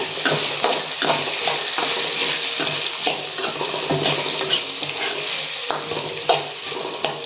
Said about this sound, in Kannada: ಕ್ಯಾಪ್ಸಿಮ್ನ ಕಮ್ಮನ್ನು ಆ್ಯಡ್ ಮಾಡ್ಕೊಳ್ತಾ ಇದ್ದೀನಿ ಇದು ಗ್ಯಾಸ್ನ ಸ್ವಲ್ಪ ಲೋ ಫ್ಲೇಮಲ್ಲೇ ಇಟ್ಕೊಂಡು ಸ್ವಲ್ಪ ಚೆನ್ನಾಗಿ ಫ್ರೈ ಆಗಬೇಕು